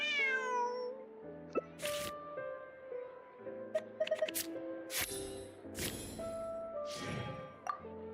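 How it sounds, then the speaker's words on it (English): A cat meows repeatedly in the video game Genshin Impact, with several drawn-out meows and caterwauling calls over soft in-game music and small plopping sounds, moderately close. "This is my friend's cat."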